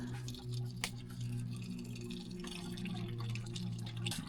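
Water trickling into an off-grid pump house pump as it self-primes below the water level, a soft steady drip and pour with a low hum underneath, faint and close, no talk.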